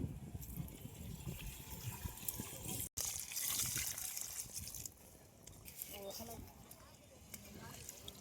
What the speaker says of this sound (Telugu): ఇప్పుడు వాటర్ పోస్తాం